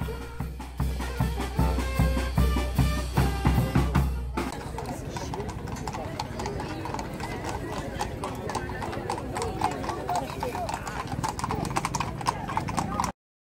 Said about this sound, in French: Les chevaux sont magnifiques